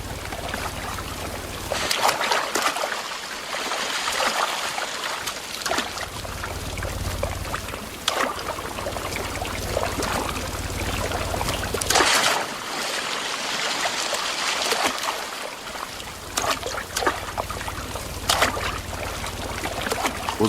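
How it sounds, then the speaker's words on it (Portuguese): A forest stream in the Atlantic Forest flows and trickles steadily, with splashing and gurgling swells rising and falling over about twenty seconds, no voices. "Mas na Mata Atlântica, sempre tem um riacho por perto."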